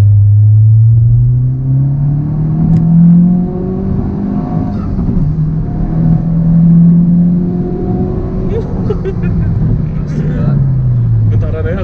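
A tuned car runs on a dyno at a performance workshop, the engine note sweeping up and down in loud rumbling revs while people talk over it.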